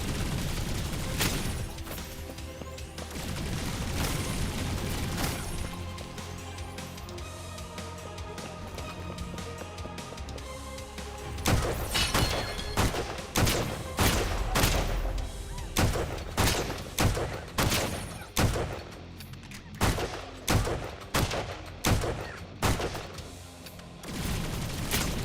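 Gunfire from the Holy Shoots video game with hard-to-control recoil: a rhythmic series of loud, punchy shots repeating at a steady pace over game music, with a denser stretch of firing before it.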